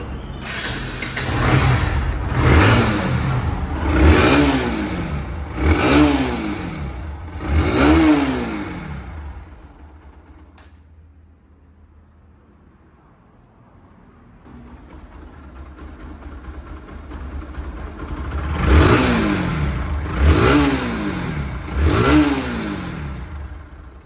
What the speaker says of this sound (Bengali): দেখছেন সাউন্ড একদম সরম বরমার সাউন্ড